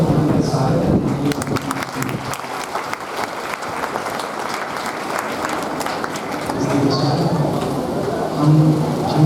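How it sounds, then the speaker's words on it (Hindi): Loud crowd applause welcomes guests at a college Independence Day celebration, a steady wash of many hands clapping with voices murmuring underneath throughout. "एक बार जोरदार तालियों से उनका स्वागत करते हैं।"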